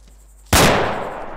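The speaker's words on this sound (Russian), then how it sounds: "знаете, я сейчас выстрелю." A single loud, close gunshot in the military shooter game ArmA 2 with the ACE mod, a sharp sudden blast after a quiet moment, then a long fading echo.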